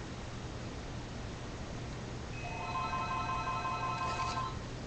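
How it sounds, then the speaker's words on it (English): A phone rings faintly in a room, a soft electronic chiming tone that starts partway through over steady background hiss. "Sorry for my phone ringing."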